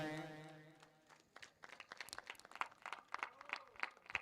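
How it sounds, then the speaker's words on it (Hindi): At a bhajan competition prize ceremony in Dolariya, Narmadapuram district, a voice on a loudspeaker gives way to scattered audience clapping that builds into quick, fairly faint applause. "जोरदार ताली बजाएं।"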